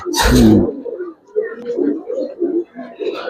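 Giribaz pigeons of an old breed coo in repeated low, throaty phrases close by, after a brief loud burst of noise at the start.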